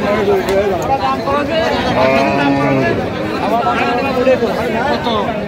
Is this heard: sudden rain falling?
no